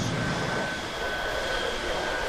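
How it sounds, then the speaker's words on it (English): Military jet aircraft taxiing on a runway toward an arming area, a steady broadband engine roar with a sustained high whine, moderately loud and continuous throughout. "they began taxiing to Marshall in the arming area at the end of the runway"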